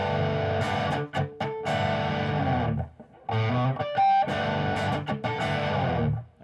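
Distorted electric guitar riff with chords that slide off, played in repeated bursts with short gaps and choppy muted strums, loud and close, no talking.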